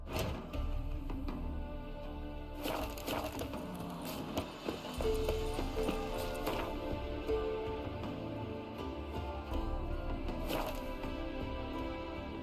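Horse hooves clip-clopping in The Witcher 3 video game, a steady run of thudding hoofbeats with some louder knocks, close and unbroken over twelve seconds.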